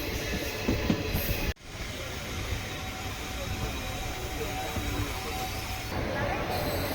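A train rumbles into Tiruchirappalli Junction as it arrives. Its steady, loud rolling noise carries throughout, broken by a sharp thump early on, with some background voices.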